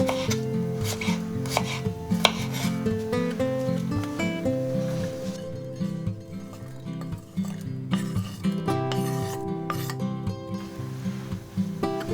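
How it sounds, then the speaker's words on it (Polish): Pineapple slices are cut into cubes with a knife, rapid rhythmic chopping taps sounding close on a board, softening briefly in the middle, with no talk. "Kilka plastrów ananasa także kroimy w kostkę."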